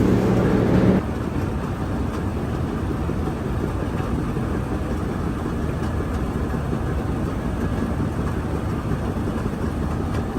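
A long string of loaded coal cars is shoved back toward the loadout, a steady low rumble and grind of a heavy freight train rolling slowly, with continuous wheel and engine drone close by.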